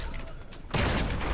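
A DMR rifle fires in a shooter video game, the blast opening a dense, loud burst of gunfire and clatter that runs on steadily after a quiet lead-in with faint background sound.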